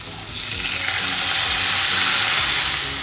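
Chopped tomatoes go into spices frying in a pan for shakshuka, setting off a loud, continuous hiss of sizzling that swells and holds close up for a few seconds.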